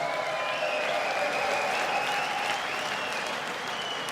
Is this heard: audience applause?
yes